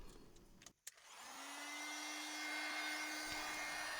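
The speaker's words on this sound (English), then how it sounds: "And again, going in with my heat gun." A heat gun blows hot air onto paint in a steady rushing whoosh that rises after a brief bump and continues alone with a faint constant hum.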